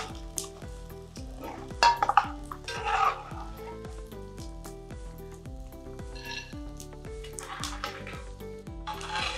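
Edible gum (gond) frying in a pan for methi laddoos, a soft sizzle with repeated stirring clinks and scrapes of a utensil against the pan, close up, alongside background music with a regular beat.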